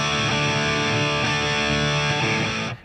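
An EVH Wolfgang Standard Exotic electric guitar with a spalted maple top, played through channel 2 of a Marshall amp at low gain with a little Electro-Harmonix reverb, rings out a loud, sustained, lightly driven chord that fades and cuts off near the end.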